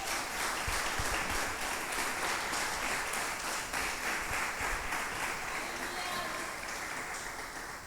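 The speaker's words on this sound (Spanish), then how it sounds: "Denle un aplauso al Señor por eso." A church congregation applauds in praise during a worship service, a dense, steady roar of many hands clapping that carries on throughout and fades slightly at the end.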